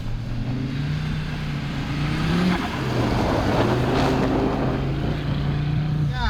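Audi RS3 driving hard on a snow-covered rally course, its engine note rising and falling steadily and loudly throughout, close by, with no talking.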